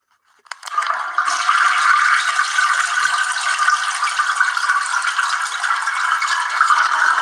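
A toilet flushing right up close, opening with a short clunk of the handle, then a loud steady gush of rushing water that keeps going without letup.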